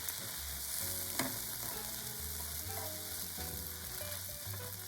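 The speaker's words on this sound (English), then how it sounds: "When the sauce boils, add 10 grams of bonito flakes and mix." Sauce with bonito flakes bubbling and sizzling in a pan while being stirred, a steady close frying hiss with soft scraping strokes and no talk.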